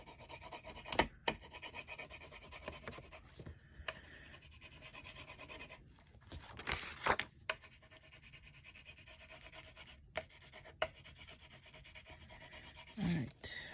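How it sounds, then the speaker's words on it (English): Watercolor crayon scrubs and rubs across paper in repeated scratchy strokes, close and fairly quiet, with irregular pauses between passes. "I'm using crayon. This is a watercolor crayon. Just trying to make a background."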